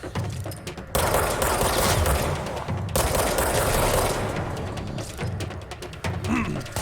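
Enemy shotgun fire in the video game Control, loud blasts and rapid gunfire bursts from close by, with sharp onsets around one and three seconds and a shorter burst near the end.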